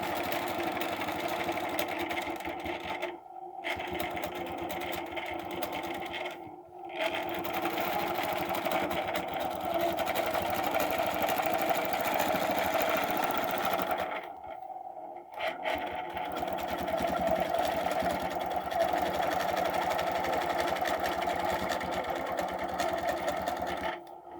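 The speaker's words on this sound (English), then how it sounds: "And now I can stitch all the way across." A sewing machine runs steadily while stitching across a design, a continuous close, loud mechanical whir that stops briefly around a few points before resuming.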